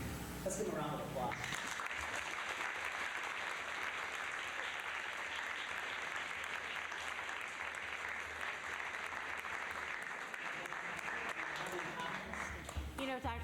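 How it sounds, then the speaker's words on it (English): Audience clapping at a school board of education meeting, a sustained burst of applause that starts abruptly and fills the room for over ten seconds, with a voice briefly at the start and end. "Let's give them a round of applause."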